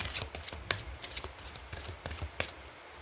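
Tarot cards are shuffled by hand in a quick run of soft, papery riffles and slaps, close and fairly quiet, with no talking.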